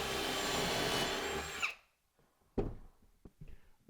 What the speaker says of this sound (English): So what I'm doing is drilling in angle holes to where I can put it into the side panel of the